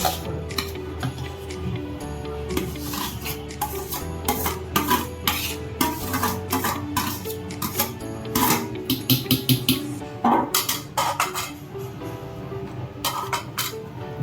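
A spoon stirring boiled potato into ragda for pani puri in a metal pot: repeated clinks and scrapes against the metal in an uneven rhythm, close and fairly loud, with a steady hum underneath.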